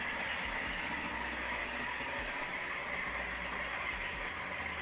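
Coffee beans being ground in a grinder, a continuous loud, close mechanical whirring and rattling grind that holds steady without pause, no voices.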